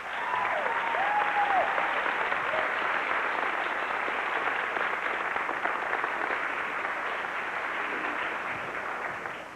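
Convention audience applause welcoming Richard Hatch at a mid-1990s Battlestar Galactica panel, sustained dense clapping from a sizable crowd, steady and fairly loud, with a faint brief whistle early on.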